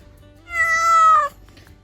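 A trapped stray cat lets out a single clear, drawn-out meow at close range against a quiet background, with no talking.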